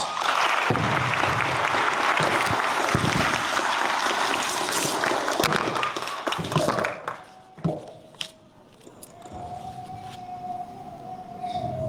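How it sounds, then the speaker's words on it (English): An audience at a police academy graduation for Seattle police gives a long, dense round of applause that fades out after about seven seconds, leaving quieter room sound and a thin sustained tone. "Please give them a round of applause."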